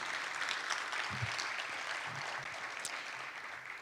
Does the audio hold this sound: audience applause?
yes